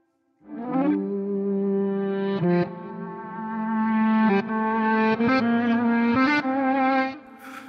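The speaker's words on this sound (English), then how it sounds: "we're getting the reversed sample set." Swelling guitar tones with a backwards, rising attack play a slow phrase of sustained notes, washed in echo and chorus, loud and alone.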